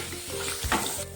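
Ground coriander, Kashmiri chilli powder, turmeric and salt sizzle in a pan as they are stirred, a short, soft burst of frying crackle with a brief scrape of the spoon.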